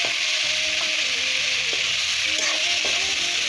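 Lentils sizzle in hot oil in a pan for an Assamese home-style dish, a steady bright hiss broken by soft scraping stirs, close and unbroken.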